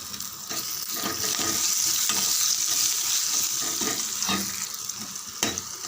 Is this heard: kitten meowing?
no